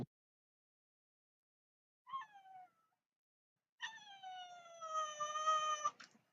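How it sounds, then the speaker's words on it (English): A cat meows twice: one short call, a pause, then a longer, louder drawn-out meow. It sounds fairly close and plays alone against silence. "If you stop torturing the cat"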